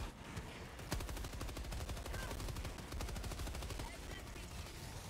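Rapid automatic gunfire from Helldivers 2 rattles on continuously for the full stretch, dense, loud and close, with one sharper shot standing out near the start.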